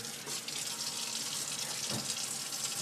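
Water from a tap runs steadily over an algae scrubber screen from a reef aquarium while it is rinsed, a constant close hiss with brief splashy changes as the part moves under the stream.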